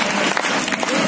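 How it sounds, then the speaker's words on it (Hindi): An audience claps steadily for an elderly man at a motivational speech event, a short dense burst of applause close to the microphone with no voices on top. "एक बार अंकल के लिए तालियां हो जाए।"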